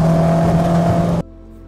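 Citroen Saxo VTS hatchback with a 174bhp throttle-bodied engine, holding a loud, steady idle or light rev with a strong low drone for just over a second before cutting abruptly to a much quieter hum.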